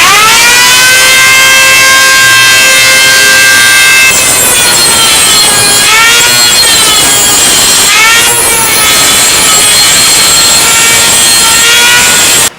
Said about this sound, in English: we'll clean those holes out with the Dremel tool grinding rock